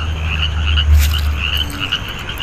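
Frog croaking outdoors near a log: steady repeated croaks and trills with a low rumble underneath, no voices.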